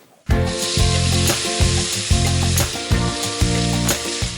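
Ground spices of shallot, garlic, pepper and chili drop into boiling oil and sizzle loudly and continuously, with repeated scraping and stirring knocks from a utensil in the pan.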